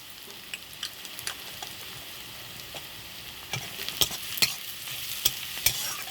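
Semolina with salt frying in a pan for sooji halwa while being stirred: scattered scraping clicks and taps over a faint, steady sizzle, with no talking.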